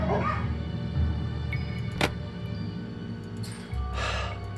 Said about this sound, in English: These dogs have been trained to act vicious on command.